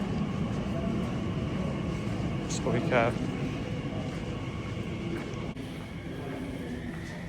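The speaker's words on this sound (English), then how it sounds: "Or we can just hop on this Reading train." A Reading-bound train at London Paddington station gives a steady low rumble and station hum, moderately loud and continuous, with a brief squealing tone partway through and someone talking over it.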